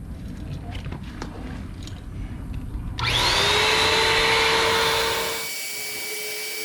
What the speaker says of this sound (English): I'm going to use this Airhead super pump to blow it up